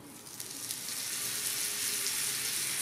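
Sandwich toasting in butter on a gas grill pan, a steady close hiss and sizzle that swells slightly louder over a few seconds, no voices.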